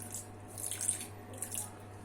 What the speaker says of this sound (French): Et ajoutez un peu d'eau tiède